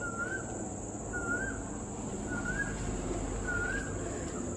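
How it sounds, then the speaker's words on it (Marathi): At dusk in a Konkan village, an Asian koel gives four evenly spaced rising calls from some distance, over a constant high-pitched insect drone and a low background rumble. "ओके, कोकिळ सुद्धा ओरडतोय."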